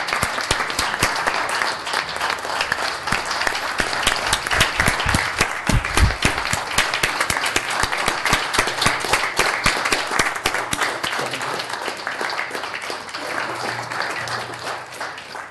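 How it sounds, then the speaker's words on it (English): Standing ovation at a city council meeting: sustained, dense applause from a room full of people, steady and loud for the whole stretch with no break. "Let's give him a great applause. Let's do a standing ovation for him."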